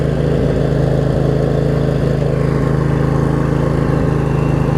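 A Craftsman riding mower's Briggs V-twin engine runs steadily nearby with a loud, low, even throb that stays constant throughout.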